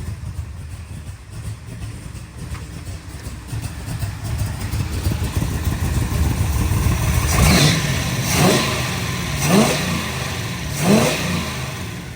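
A 454 Chevy big-block V8 in a Cobra kit car, running at a steady throaty idle and then blipped four times in quick succession, each rev rising sharply and falling back, close and loud.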